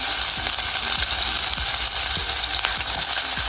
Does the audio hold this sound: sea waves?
no